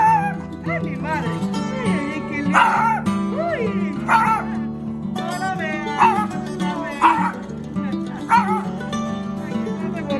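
A small dog in a Cuban town near Caibarién barks and yips repeatedly in short loud bursts close by, with whimpering tones between barks.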